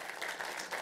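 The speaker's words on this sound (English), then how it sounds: "Let's give them a round of applause." A room of listeners at a panel on infectious diseases in disadvantaged communities gives a round of applause, a brief, faint, even rush of many hands clapping together.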